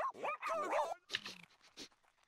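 A dog in The Sims gives a run of yappy barks and whimpering yips, loud and close at first, then trailing off into quieter, scattered sounds.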